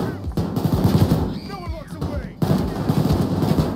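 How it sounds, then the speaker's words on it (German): Gunfire in Payday 2 on hard difficulty, a dense crackle of shots through most of the stretch with a brief lull in the middle, heard alongside game noise and a faint voice. "Wird von überall beschossen"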